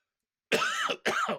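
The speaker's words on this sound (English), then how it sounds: "a cough snuck in before the end of the podcast" Two harsh coughs in quick succession, close and loud, following a moment of silence.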